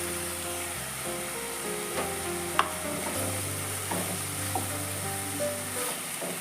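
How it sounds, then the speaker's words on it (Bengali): Onion frying in a pan with ginger, garlic, tomato and green chili paste added for a dhaba-style chicken dish, a soft steady sizzle with occasional stirring clinks, while sustained background music plays throughout. "পেঁয়াজটা আমার মোটামুটি ভাজা হয়ে গেছে। এবারে ওর মধ্যে আমি আদা, রসুন, টমেটো আর কাঁচা লঙ্কা এই পেস্টটা দিয়ে দিলাম।"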